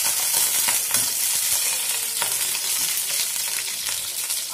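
Tomato, chili and garlic fry in a little oil in a pan, giving a loud, steady, close sizzle with crackly spatter and occasional stirring scrapes, and no voices.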